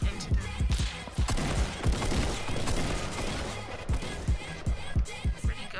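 Grenade launcher fire in the video game Fortnite lands as a rapid, irregular string of sharp booms and impacts, loud and close, in a busy combat mix.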